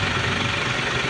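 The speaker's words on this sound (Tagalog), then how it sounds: "makina na ito na Mitsubishi Fuso 6R10 engine." A Mitsubishi Fuso 6R10 diesel engine runs steadily, a loud, dense low rumble with continuous mechanical clatter and vibration, heard close up without talk.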